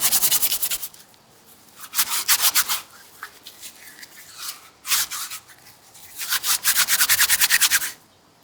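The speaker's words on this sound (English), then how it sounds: "take dry grass and rub it between your palms to loosen the fibers" Dry grass rubbed briskly between the palms, making bursts of rough rustling scratches in three main spells, each built from quick back-and-forth strokes, close and fairly loud with quiet pauses between.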